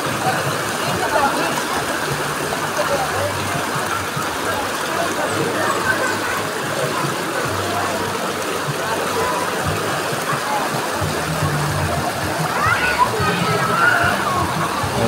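A clear river flowing steadily, a continuous broadband rush with sloshing texture close by, under occasional talk and a brief squeal of a passing vehicle near the end.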